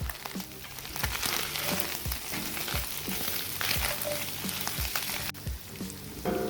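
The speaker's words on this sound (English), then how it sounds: "let's add our butter to melt" Butter melting and sizzling in a skillet of well-browned ground meat over medium heat, a steady dense crackle with scattered sharper pops and a few utensil taps, close and continuous with no talking.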